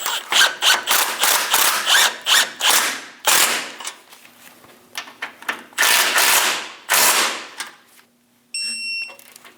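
A ratchet snugging down a nut and bolt on a front sway bar bushing of a 2003-2025 Chevrolet Express 2500, heard as repeated bursts of close, rapid clicking separated by short pauses.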